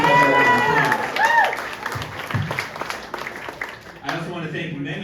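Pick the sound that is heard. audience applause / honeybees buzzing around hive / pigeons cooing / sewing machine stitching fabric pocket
audience applause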